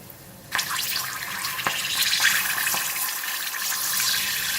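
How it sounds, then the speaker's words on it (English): Kaffir lime leaves deep frying in oil in a small pot, a sudden burst of bright hissing crackle that continues steadily with sharp spits and pops, close and without talk. "I'm going to first fry the kaffir lime leaves first"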